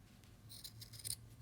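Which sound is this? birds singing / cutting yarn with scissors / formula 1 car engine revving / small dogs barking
cutting yarn with scissors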